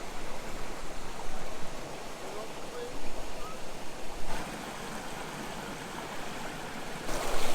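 The Khlong Phlu waterfall and its stream on Koh Chang produce a steady broadband rush of flowing water. It stays moderately loud throughout, with a few brief swells and no clear voices above it.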